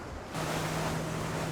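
Sea waves off Somaemuldo island, heard as wind-blown surf. A short washing rush swells in after a brief quieter moment and then holds as a steady, fairly close roar, with no voices.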